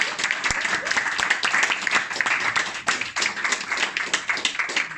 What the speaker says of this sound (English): Let's give Jonathan a big round of applause.